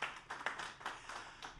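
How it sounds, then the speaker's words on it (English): Scattered clapping from an audience at a school district community coffee meeting on digital transformation, a short burst of uneven hand claps that starts firmly and tapers slightly, fairly close and without talk over it. "let's give a round of applause to our technology department and all the great work they're doing"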